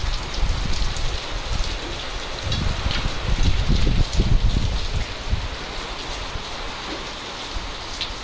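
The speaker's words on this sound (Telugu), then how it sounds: "చూసిరా మండలు తెంపొచ్చే లోపు వర్షం ఫుల్గా స్టార్ట్ అయిపోయింది." Heavy rain pours steadily onto surfaces outdoors, a dense, continuous hiss and patter that swells slightly in the middle before settling back, with no voices.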